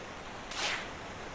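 A short whooshing rush of water from the waterfall plunge in the Final Fantasy IV video game, a single swell of noise rising and fading in under half a second, alone over quiet background.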